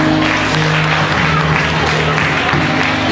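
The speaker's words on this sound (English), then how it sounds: "Let's give them another round of applause." An audience at a school graduation ceremony held in a church claps in steady, dense applause that fills the whole short stretch, with faint crowd murmur underneath.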